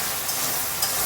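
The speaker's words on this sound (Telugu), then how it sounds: "అంత మెంతి వేసేసుకొని కలిపేసుకోవాలి." Chicken curry with fenugreek being stirred in an iron pan, giving a steady broadband sizzle with two brief scraping stirs; no voices.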